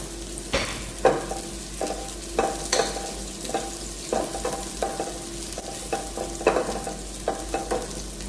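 Onions sizzle steadily in a hot pan for Arabic mandi, with repeated sharp scraping and stirring strokes over the frying hiss, close up and with no voices.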